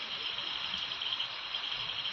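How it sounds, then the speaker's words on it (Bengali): Night crickets in the hills of Kalimpong district, a steady high-pitched continuous chirring drone that holds evenly throughout, faint and distant, with no voices or other sounds. "ঝিঝি পোকার ডাক"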